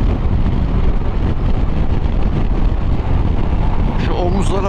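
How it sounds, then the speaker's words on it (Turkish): Heavy wind buffeting a rider on a KYMCO DTX 360 maxi scooter, striking the windscreen and shoulders, a loud, steady roar filling the whole stretch without a break. "Çok rüzgar alıyor."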